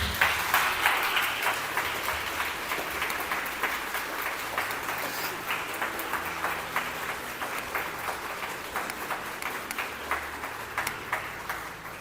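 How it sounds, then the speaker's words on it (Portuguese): Audience applause at a spiritual gathering during Semana de Ramatis, continuous clapping from a crowd that stays fairly even for about twelve seconds, moderately loud with a roomy feel. "para a gente aplaudir"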